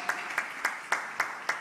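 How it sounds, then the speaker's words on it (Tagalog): Congregation clapping in praise at a Filipino church worship service: six sharp, evenly spaced claps or clap bursts, moderately loud, over a steady background hum. "Palakpakan natin ng mahal na Panginoon."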